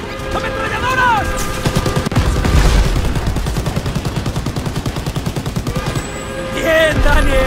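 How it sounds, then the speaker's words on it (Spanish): Sustained machine gun fire in the World War II shooter Call of Duty WW2, rapid rhythmic bursts rolling on for several seconds amid battle noise, with shouting voices over the gunfire. "¡Ametralladoras!"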